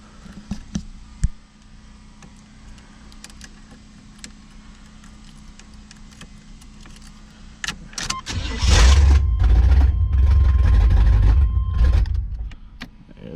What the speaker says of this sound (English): That carburetor need tune and stuff though. It's spitting, as you can see.